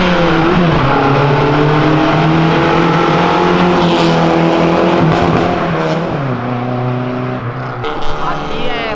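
Race-tuned cars accelerate hard on the main straight at Interlagos circuit during a car event, with loud, continuous rising engine notes, gear changes and overlapping cars close by.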